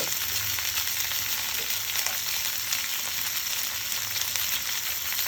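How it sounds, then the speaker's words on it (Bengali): Eggs frying in hot oil in a wok give off a steady, loud, close sizzle with continuous crackle that runs the whole time, with no talking. "কড়াইটা গরম করে তেল দিয়ে তার মধ্যে ডিমগুলো দিলাম"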